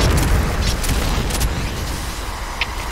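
A grenade explosion in a video game lands as a dense, loud boom with a heavy low rumble that fades slowly over a few seconds, with no voices over it.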